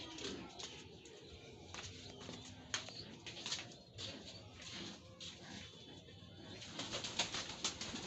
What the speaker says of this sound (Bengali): আমার একটা ময়ূরপঙ্খী পায়রা